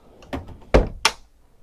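Cabinet-style wardrobe door on a Fairline Squadron 50 motor yacht being opened, giving three short knocks and thumps close by, with the loudest firm clunk in the middle, in a quiet cabin.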